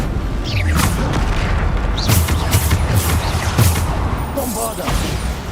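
Bombarda explosion spells cast in the wizarding game Hogwarts Legacy: several punchy booms in quick succession over busy combat noise, close and loud.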